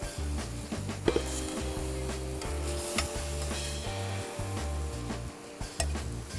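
Onions and a piece of yellow pepper sizzle and crackle steadily in a hot pan outdoors on a beach, with repeated stirring scrapes and utensil knocks over the continuous frying hiss.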